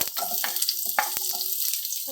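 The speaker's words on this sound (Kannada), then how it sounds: "ಮತ್ತು ಟೊಮೆಟೊ ಹಾಕಿ ಚೆನ್ನಾಗಿ ಫ್ರೈ ಮಾಡ್ಕೊಳ್ಬೇಕು" Onion and tomato frying in a pan for chicken fry, a soft sizzle broken by sharp utensil clacks and scrapes against the pan, close and intermittent.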